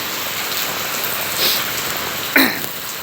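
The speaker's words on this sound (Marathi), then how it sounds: "सध्या पाऊस चालू आहे, लाईव्ह पाऊस आहे" Steady unseasonal rain in Tuljapur taluka hisses on surfaces, a constant close patter, broken briefly by a couple of short throat-clearing or cough-like sounds.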